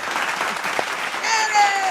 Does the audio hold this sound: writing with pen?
no